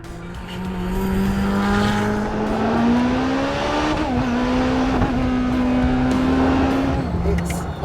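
Czinger 21C 3D-printed hypercar engine under way, a loud steady drone from inside the cabin that climbs gradually in pitch, dips with a shift near the middle, then holds high while someone talks over it.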